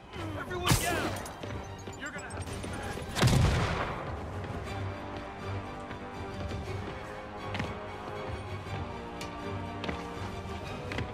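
Gunfire in Marvel's Spider-Man Remastered on PS5: a couple of sharp, loud shots and a crash stand out over a busy game soundscape with music and a dull rumble, and voices speak faintly in between.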